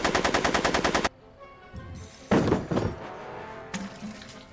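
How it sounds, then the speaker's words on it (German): Rapid automatic gunfire from a Back to the Future video game, a loud dense burst of shots for about a second, then sharper single impacts and thuds as barrels are shot and hit. "der darf doch nicht auf die Fässer schießen, sonst das explodiert doch alles"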